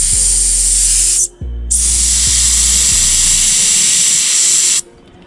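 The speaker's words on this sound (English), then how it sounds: "I'll use this to just release some air" Air hisses loudly out of a tyre valve pressed open with a pin, a strong steady spray broken by a brief pause, then a long continuous release that stops abruptly, with a low mechanical hum underneath.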